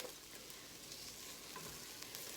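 Garlic cloves hit a hot pan of browning onions and sizzle in a steady, continuous hiss of frying, close and even, with no voices.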